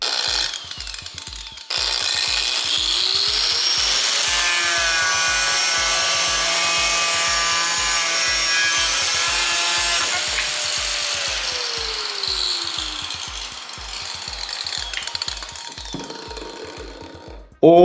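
An angle grinder fitted with a multi-purpose blade cuts through wood, a loud, steady whine with a rapid rhythmic chatter that stops abruptly near the end, heard close up.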